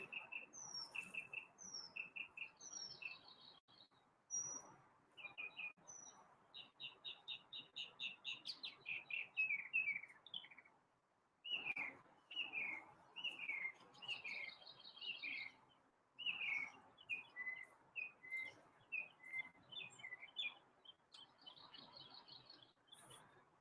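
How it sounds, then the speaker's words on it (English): A songbird sings outdoors in repeated bursts of bright chirps and whistled phrases, separated by short pauses, over a soft background hiss. "Listen to the bird for a while."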